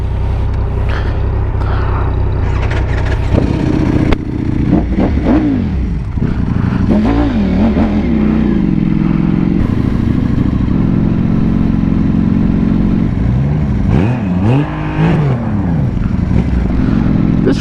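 A custom Triumph Rocket 3, a motorcycle with an enormous production engine, revs up and down repeatedly while riding, its loud throttle swells rising and falling close to the listener over continuous engine drone.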